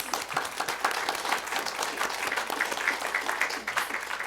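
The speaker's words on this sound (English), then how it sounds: "A round of applause for Rhonda Gray, please." Steady applause from a seated audience at a museum symposium, a dense even wash of many hands clapping that carries on without pause for several seconds.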